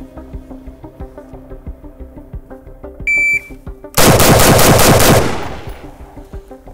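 L85A1 (SA-80) British military rifle fired at a range: a rapid, loud burst of shots lasting about a second, after a short electronic beep and over a quieter rhythmic background, then trailing off.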